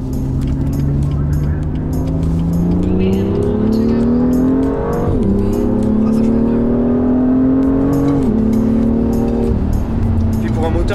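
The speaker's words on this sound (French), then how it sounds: "il prend des tours tellement facilement" Turbocharged car with a short-wheelbase chassis, its engine revving loud and close, pitch climbing steadily and dropping briefly at two gear changes before rising again under hard acceleration.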